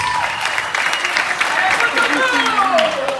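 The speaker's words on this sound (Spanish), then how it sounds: "Aplausos." Audience at an adults-only circus show breaking into applause, a dense wash of clapping mixed with loud voices and shouts over it.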